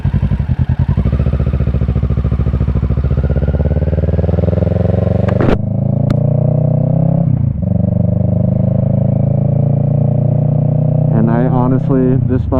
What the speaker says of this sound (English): Same thing, shifting like any other bike.